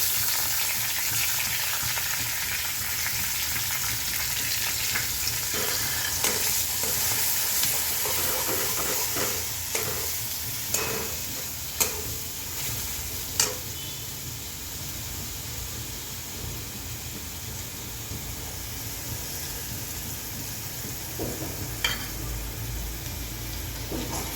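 Ground masala paste for dhaba-style shev bhaji sizzles steadily in a hot pan, a continuous frying hiss with occasional spoon scrapes and brief pops, close and alone.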